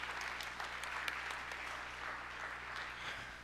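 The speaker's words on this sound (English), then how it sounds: "Give them a round of applause, mamas." A church congregation at a Mother's Day worship service in Brunswick, Georgia applauds, a steady wash of clapping from many hands that stays even and moderately distant throughout.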